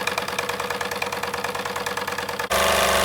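A Wilesco D24 model steam engine running on a gas flame, a fast, steady mechanical chuffing and clatter close by that turns into a louder, denser rush near the end, with no talking.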